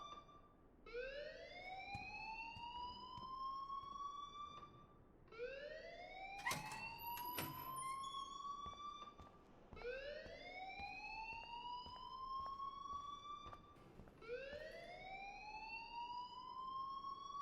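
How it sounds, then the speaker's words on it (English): A fire alarm in Life is Strange wails in repeated rising sweeps about every four seconds, a steady cycling tone with brief clicks in between, heard somewhat distant and faint. "please turn off that alarm since that's your job."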